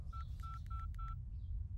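A quick series of telephone keypad tones beeps out as a phone number is dialed, about six short evenly spaced presses, over a low steady hum.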